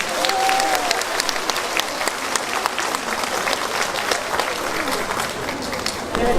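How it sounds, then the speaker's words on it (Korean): Crowd at the 21st Yeongdong county citizens' day ceremony gives a big round of applause, dense sustained clapping throughout, with voices faintly mixed in underneath. "여기 참석하신 여러분 모두 큰 박수 보내주시기 바랍니다"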